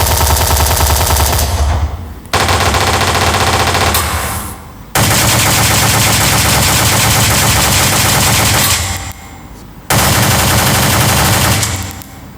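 Sustained automatic gunfire effect, loud and dense with rapid overlapping shots, broken by brief drops in level and resuming in long bursts, like soldiers firing on all sides.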